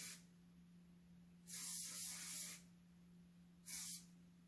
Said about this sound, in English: now what we're going to do is use that same curl spray